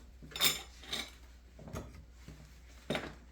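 Kimchi ingredients are tossed and mixed in a bowl, giving soft clinks, taps and scraping rustles at an irregular pace, fairly quiet and close.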